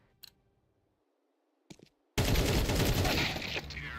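Gunfire in a video game shooter match: two brief isolated shots or clicks in near silence, then a sudden loud sustained burst of firing and noise that carries on to the end.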